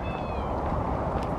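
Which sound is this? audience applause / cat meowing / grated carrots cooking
cat meowing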